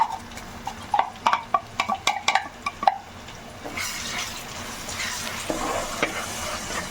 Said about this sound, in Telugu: సో ఈ ఆనియన్స్ని అయితే కాసేపు మగ్గనిద్దాం మనం ఆయిల్లో